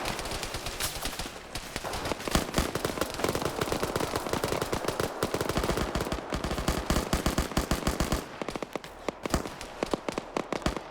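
Suppressive gunfire in Operation Flashpoint during a NATO versus Russia PvP match: rapid, sustained automatic bursts and overlapping shots from several weapons, sharp and close, rattling almost nonstop.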